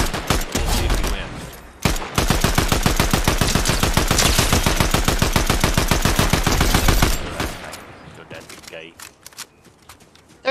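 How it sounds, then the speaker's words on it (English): Rapid gunfire from players in a multiplayer shooter game, a dense sustained automatic burst lasting several seconds, then thinning into scattered single shots. "There's real people shooting at me, I think."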